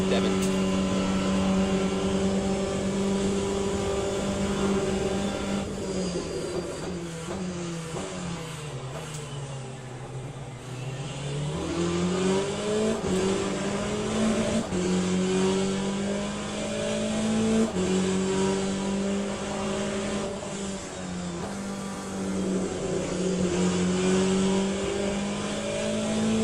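A hypercar racing engine in the Le Mans Ultimate racing sim, a continuous loud drone that rises and falls through gear changes, dipping briefly mid-lap before climbing again, with someone talking over it.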